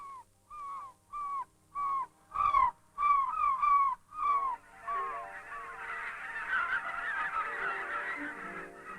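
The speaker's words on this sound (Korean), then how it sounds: "해안에서 고깃대를 따라다니는 갈매기의 무리들," A flock of seagulls following fishing boats off the Jeju coast calls in a series of loud, separate honking cries, then the calls blur into a dense chattering mass of birds.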